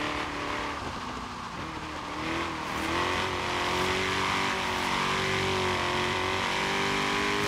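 In Forza Horizon 3's Hot Wheels expansion, a race car's engine revs and climbs steadily, with tire squeal and skidding, loud and continuous throughout with no talking.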